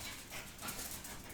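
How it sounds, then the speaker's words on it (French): A dog pants and whimpers softly, faint and somewhat distant, with short breathy bursts over a quiet background. "Oh, mon chien!"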